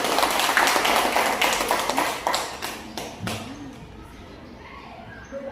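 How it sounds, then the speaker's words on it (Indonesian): Students in a classroom clapping for a group after a maths presentation, a burst of close, dense applause that fades out over a few seconds, followed by quiet room sound. "Kita tepuk tangan untuk kelompok 2."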